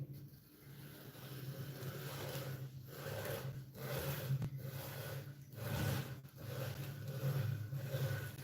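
Frosting being smoothed on a birthday cake with a scraper while the turntable moves, a soft continuous rubbing and scraping that swells and fades in repeated passes, quiet and close.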